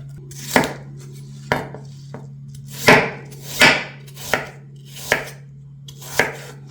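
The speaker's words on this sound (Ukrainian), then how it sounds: "Я беру четвертину ріжу її ще раз напополам і на такі тоненькі слайси" A knife cuts apple quarters into thin slices on a board, giving about eight crisp, separate chops at an unhurried, slightly uneven pace, close and clear with no talking.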